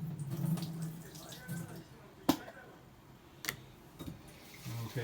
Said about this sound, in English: you could put this inner lid and put this water out